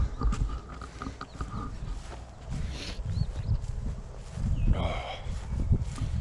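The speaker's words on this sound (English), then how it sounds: "The pigs are laying in the trough eating" Pigs on a homestead feeding at a trough, with wet snuffling, chomping and low grunts close by, scattered bumps and knocks against the trough, and a couple of brief higher squeals.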